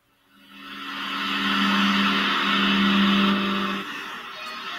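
An Audi TT engine in the Gran Turismo 6 racing game fades in and holds a loud, steady drone with a low hum, then eases off slightly near the end. No one talks.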